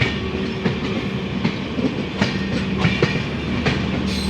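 Passenger train on an Indian railway journey beginning to roll, a loud continuous rumble with rhythmic clacks and knocks from the wheels, heard from inside the carriage without speech.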